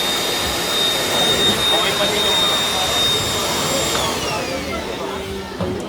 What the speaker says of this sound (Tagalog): Naprotektahan po ng filter yung motor ng vacuum.